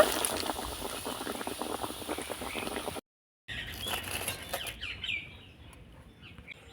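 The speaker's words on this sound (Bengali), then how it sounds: "একইভাবে আমি সবগুলো ভেজে নেব" Egg cutlets frying in hot oil give a dense, steady crackle up close, which breaks off briefly and then returns softer and thinner as it fades.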